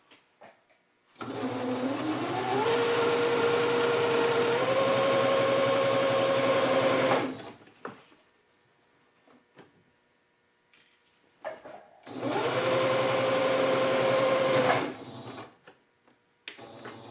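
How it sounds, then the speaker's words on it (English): A sewing machine stitching a rod pocket on a fabric valance runs in two steady whirring bursts with a rising hum, separated by a pause with small handling clicks, no voices. "now all there is to do is press this down and sew it"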